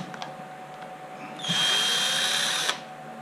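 A power screwdriver whirs for about a second while backing a screw out of the motor controller cover on an MGI Zip Navigator golf trolley. The single steady burst is close and loud, with a faint tap just before it.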